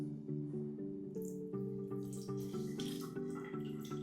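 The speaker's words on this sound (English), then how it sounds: "The tap is still on, so we're going to see the water start flowing again." Water sputters and rushes from a household tap as the supply returns in a smart home with leak detection, a steady humming, pipe-like tone under irregular splashy bursts, close and continuous.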